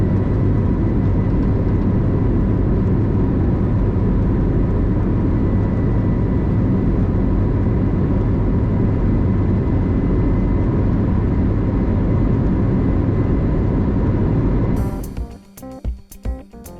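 American Airlines A321 airliner taxiing at Miami International Airport, heard from inside as a steady, loud low rumble and engine roar that holds without a break, then drops away abruptly near the end, leaving a few scattered clicks and knocks.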